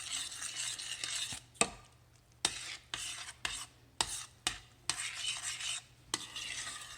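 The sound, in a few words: stirring green beans into casserole mixture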